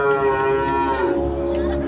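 A cow lowing in a long, loud, steady moo with strong tonal harmonics, close and continuous with no pauses.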